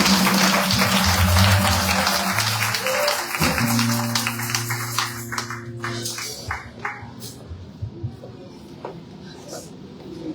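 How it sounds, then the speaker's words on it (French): Applause at a church graduation service for a ministry school, a broad wash of clapping from a congregation over sustained organ or keyboard tones, thinning out into scattered claps toward the end. "Est-ce que nous pouvons acclamer pour nous?"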